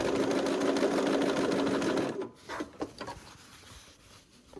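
A sewing machine stitches quilt pieces together in a fast, steady run for about two seconds, then stops, leaving a few light clicks and handling sounds.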